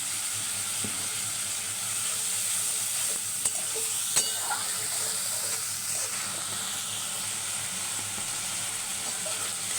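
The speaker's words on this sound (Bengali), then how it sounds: "টমেটো দিয়ে দিলাম দিয়ে এবার কষিয়ে" Tomatoes sautéing in a pan with turmeric while making raw banana kofta, giving a steady close sizzle and hiss with a few soft stirring scrapes, no talking.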